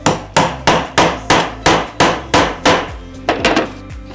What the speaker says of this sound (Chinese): 现在我示范把这个钉子拔起来